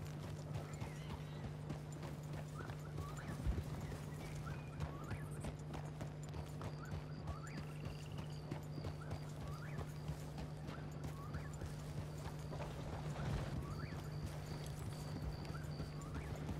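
Horse hooves clip-clop at a steady trot while riding in Red Dead Redemption 2, an even and continuous rhythm under a constant low hum and faint ambient tones throughout.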